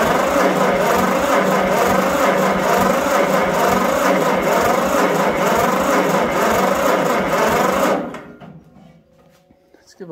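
The engine of a John Deere 40 tractor that had sat unused for years is cranked over loudly and continuously for about eight seconds, then cuts off without catching, leaving a quiet tail.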